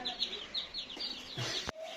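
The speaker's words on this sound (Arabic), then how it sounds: "يلا حلوه الفراخ، ما بتضرش" Real chickens clucking and chirping up close, a quick run of short calls, then a sharp knock and a brief steady tone at the end.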